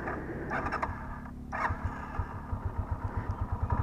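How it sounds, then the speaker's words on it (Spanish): An Italika Z150 motorcycle engine idles nearby with a low, even putter, a few clicks and clatters over it, no one talking. "No sé si escucha el motor, yo digo que sí."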